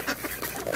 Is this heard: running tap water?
no